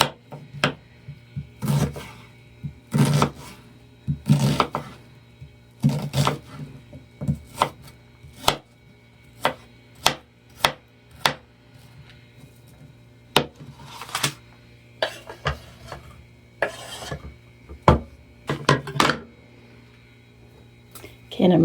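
An onion being chopped on a cutting board in a small RV kitchen, with sharp knife thunks landing in irregular clusters over about twenty seconds, close and fairly loud against a low background hum.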